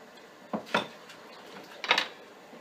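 A spoon clinks and scrapes against a pan while stirring together a sauce for cuttlefish seasoned with black pepper, giving a few sharp metallic knocks, clear and close with no talking.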